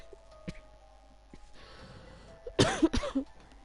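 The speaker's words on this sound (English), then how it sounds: "Coughing fit" Quiet room with a few isolated clicks, then a burst of harsh, loud coughs close to the mic, three or four in quick succession.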